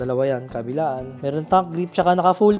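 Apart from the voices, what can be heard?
No everyday noise stands out behind the speech.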